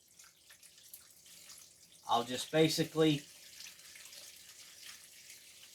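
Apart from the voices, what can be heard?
pouring water into potting mix cups of onion plants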